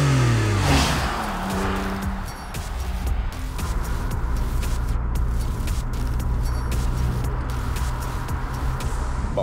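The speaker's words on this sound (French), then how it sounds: "quand tu pars ton char, ça sonne comme un vieux tracteur" A Porsche 911 engine cranks and fires up in winter with a loud rising rev, then settles into a rough, steady idle close by.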